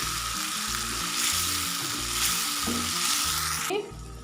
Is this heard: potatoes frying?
yes